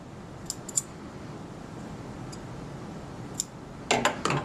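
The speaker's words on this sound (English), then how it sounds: "now we're going to trim these threads." Small scissors snip loose threads on a zippered ear bud pouch, a few faint scattered clicks before a quick burst of closer, sharper snips near the end.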